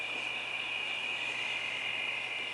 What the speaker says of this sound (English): This is the cricket noise.